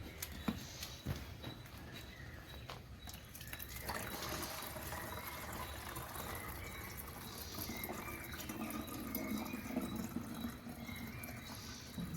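Water running from a tap into a plastic bottle, a faint steady trickling and splashing throughout with a few soft knocks near the start.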